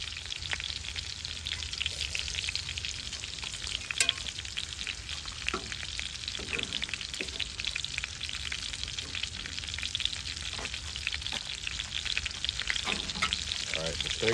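A ribeye steak sears in a cast iron pan, giving a loud, continuous hiss and crackle with sharp spits and pops scattered throughout, close and unbroken, with no talking.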